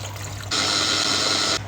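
Water pours into a cooking pan in a steady, bright rushing stream for about a second, loud and close, then cuts off.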